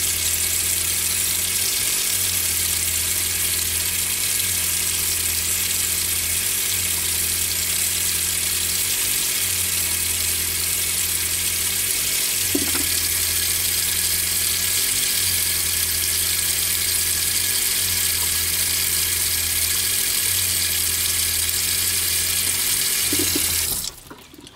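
RV water pump running with the hot tap open, a loud steady gush of water over a pulsing pump hum that repeats in regular cycles, then cuts off abruptly at the end.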